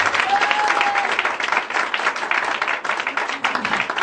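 A church congregation applauds to acclaim the Lord, steady loud clapping with some cheering voices mixed in, sustained throughout.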